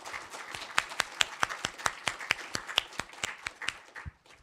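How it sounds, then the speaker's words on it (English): A round of applause at a nanoscience summer institute's final presentations, a small group clapping in a quick, fairly even rhythm of sharp claps that trails off at the end. "please let us give a huge, huge round of applause to these two folks"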